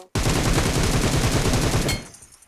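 An AUG assault rifle fires on full auto in a mobile shooter game, one loud, rapid burst of closely spaced shots that stops abruptly and then fades.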